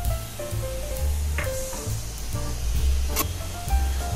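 Whole spices (a bay leaf, cardamom, cloves and cinnamon) fry in white oil for shahi paneer, giving a steady, close sizzle with soft crackle and some low rumble throughout.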